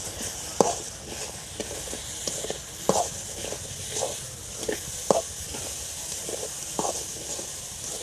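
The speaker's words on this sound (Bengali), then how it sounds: "এভাবে নাড়তে থাকবো যতক্ষণ চিনিটা গলে না যাবে" Sugar being stirred in a pan as it melts and browns, a steady sizzling hiss broken by sharp scraping taps of the spoon against the pan at irregular intervals, with no voices.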